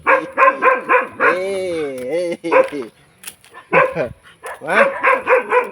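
A dog barks and yips in short repeated bursts close by, with a whining tone between barks and a person speaking over it.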